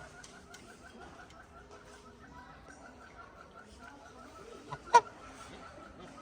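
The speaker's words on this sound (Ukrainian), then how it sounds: "Є навіть гуси." Geese at an animal shelter in Lviv honk in a steady, repeated pattern at moderate distance, with one sharper, louder honk near the end and faint talking underneath.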